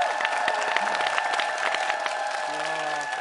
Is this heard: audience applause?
yes